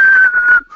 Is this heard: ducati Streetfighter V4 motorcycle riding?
no